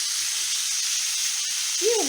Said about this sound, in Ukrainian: обжарюю морку з цибулею до золотистого кольору